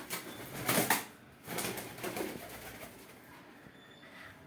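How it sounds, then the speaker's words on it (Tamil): Pigeons cooing at a house, soft low coos in several bursts with some wing rustling, fairly close and without talk. "புறா ஜோடியாக நிற்குது பாருங்க, வந்து குடியிருக்கிறது"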